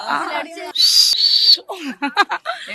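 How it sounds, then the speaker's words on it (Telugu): A fan celebrating Thalapathy Vijay's election win lets out one loud, shrill whistle lasting almost a second, close to the microphone, with excited talk just before and after. "విజిల్ ఒకసారి వేస్తారా?"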